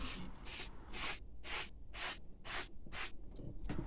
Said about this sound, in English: I'm using a little bit of silicone spray to help it to go in easier. I'm just spraying the channel